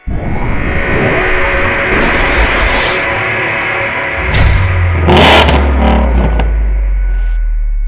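A faulty BMW windshield wiper motor runs while its wipers stay stuck, giving a steady, loud mechanical whir with a deeper droning hum that swells in the second half; no one speaks.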